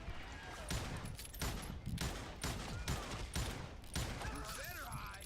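Gunfire in the Western shooter game Call of Juarez Gunslinger: a steady run of loud, dense shots that keeps going for several seconds with only short gaps, while game voices talk over it.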